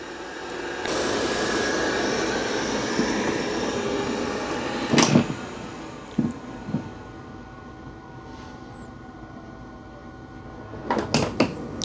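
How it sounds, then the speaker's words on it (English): A Dreame L20 Ultra robot vacuum at its dock, a steady loud whirring and rushing drone of mop-pad washing and dustbin emptying that runs throughout, with a few sharp clunks and knocks late on and no talk. "It's going to come back, reattach the mop pads. It's got to clean the mop pads and empty everything out of the dustbin."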